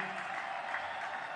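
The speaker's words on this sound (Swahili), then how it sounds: "shangwe na makofi mengi kwa Mheshimiwa Rais." A crowd claps and cheers for the President of Tanzania, a brief continuous wash of applause from a large gathering.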